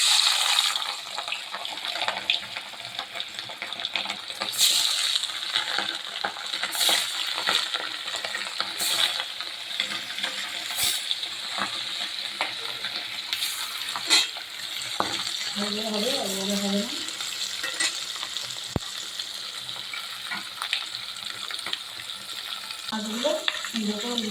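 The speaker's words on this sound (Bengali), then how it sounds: "তো তেল গরম হয়ে গেছে মাছগুলো ছেড়ে দেবো" Pieces of katla fish fry in hot oil, giving a steady, continuous sizzle with faint crackles that runs the whole time, mostly alone apart from a brief faint voice partway through.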